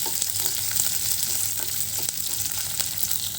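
Lentils and spices tempering in hot oil in a pan give a steady, close sizzle and crackle that runs without a break, with a few faint knocks, and no one speaks.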